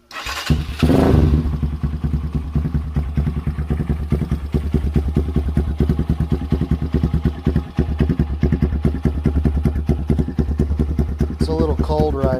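A Venom X22R motorcycle fitted with a new muffler cranks and catches, then settles into a low, cold idle with a steady, close, putting rhythm and faint mechanical clatter.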